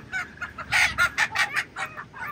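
Rapid, high clucks and squawks from a rooster in Uttarakhand, India, a quick irregular string of sharp calls over faint background noise.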